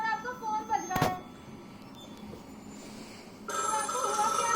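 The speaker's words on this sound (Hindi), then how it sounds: "सर आपका फोन बज रहा है।" A phone rings with a bright electronic tone, a sharp click breaking in, then a louder ringing burst near the end, over soft background noise.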